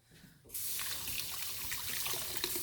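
Water from a tap suddenly starts running to rinse cream separator parts, a close, steady splashing and trickling stream that continues to the end after a quiet start.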